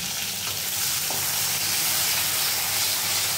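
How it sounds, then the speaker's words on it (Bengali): Cut potatoes sizzling and frying in oil in a pan after fish, a steady loud hiss and crackle that continues without pause. "এবার আমি আলুগুলো ভাজা করে নেব"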